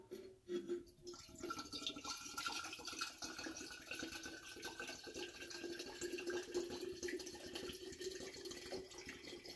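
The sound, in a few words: white dog whisky poured out of an oak barrel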